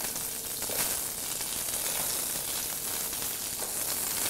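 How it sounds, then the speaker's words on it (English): Cauliflower pieces fry in a pan of hot oil over a high flame, producing a steady, bright sizzling hiss that holds evenly throughout at moderate loudness with no voices. "You want to hear a nice sizzle when those guys hit the pan."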